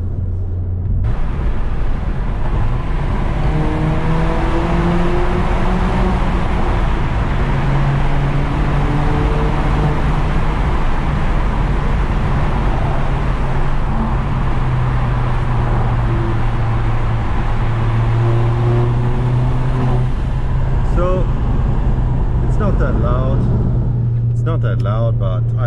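Alfa Romeo 159 TBi Stage 2 (248 PS) at night, heard from the cabin: a loud, steady engine drone with rising and falling pitch through gear changes, under continuous road rumble.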